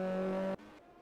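A race car in a sim racing game sweeps past with a loud, steady engine tone that cuts off sharply, leaving a fainter fading hum.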